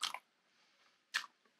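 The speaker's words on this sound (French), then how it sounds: "Vous avez vu comment ça croustille?" A crunchy chocolate-coated marshmallow treat bitten twice, two sharp close crunches about a second apart with faint chewing between them.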